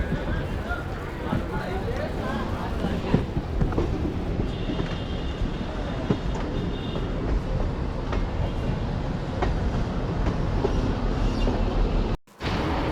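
Inside MEMU passenger train 67204 running from Renigunta toward Nellore, a steady loud rumble and rattling of the carriages continues throughout, with people talking under it and a brief drop near the end.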